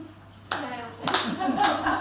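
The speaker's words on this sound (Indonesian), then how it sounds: "Oke, Kak, tepuk 3 kali" Three distinct hand claps during a group activity at a school discussion session, spaced about half a second apart, each followed by overlapping voices talking and murmuring in the room.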